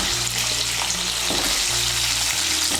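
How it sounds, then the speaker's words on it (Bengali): Cut potato pieces sizzling steadily in hot oil in a pan, a close, continuous crackling fry with a faint low hum beneath and no talking. "এই তেলের মধ্যে আলুগুলো ভেজে নেব"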